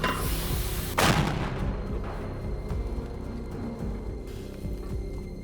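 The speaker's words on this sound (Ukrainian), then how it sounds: "Постріл!" A single heavy artillery shot booms out about a second in near Bakhmut, Ukraine, followed by a long rolling rumble and a low steady hum in the background.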